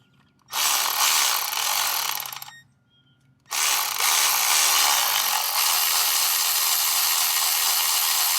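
Impact gun zipping out the crank pulley bolts on an Audi S4, a loud continuous buzzing rattle for two seconds, a brief pause, then a longer sustained burst running to the end, close and alone.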